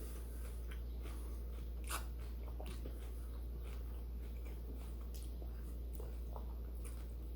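Faint crunching, chewing and spoon clicks come from someone eating Raisin Bran cereal from a bowl. The small scattered bites sit over a steady, quiet room hum.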